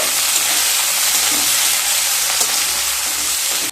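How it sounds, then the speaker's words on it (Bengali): Chopped large onions fry in hot oil in a pan, a steady dense sizzle running evenly throughout, close and fairly loud with no voices. "পেঁয়াজগুলোকে হালকা ভেজে নেব।"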